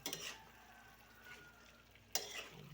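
Chicken minudo with carrots and potatoes being stirred in a pan, a quiet sizzle running throughout with a few soft scrapes near the start and a sharper clank of the spoon near the end.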